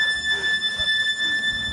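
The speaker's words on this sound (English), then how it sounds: "That's the alarm. We've set the alarm off." A steady, piercing electronic alarm sounds at a farm machinery auction, holding two high continuous tones without a break, fairly loud and close, with faint low background rumble.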